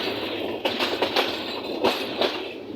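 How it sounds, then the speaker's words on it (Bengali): A train eases toward the platform at Bonarpara railway station, with a close, steady rolling rumble and a few sharp rhythmic wheel clacks on the rails. "প্ল্যাটফর্মে খোলা দাঁড়াবো আমাদের ট্রেনটা"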